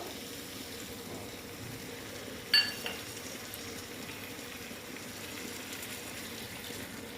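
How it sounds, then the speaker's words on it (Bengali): Water poured into a sizzling koi fish curry in oil, a continuous close hiss and bubbling with a sharp clink of a utensil partway through. "এখন আমি এখানে জল অ্যাড করে দেবো দেখো"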